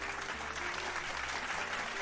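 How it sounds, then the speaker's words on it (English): A small room's round of applause greets a pet no longer wearing a cone of shame, quiet and steady clapping for about two seconds with a faint low hum beneath. "Round of applause."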